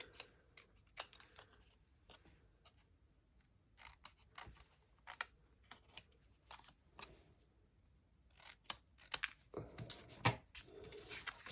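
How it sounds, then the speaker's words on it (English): Scissors snip a strip of leftover card paper for cardmaking in sparse, quiet cuts with pauses between them, becoming a quicker, louder flurry of snips and rustling near the end, close and without talk. "I've got a strip of this, so I'm going to just cut this down a bit"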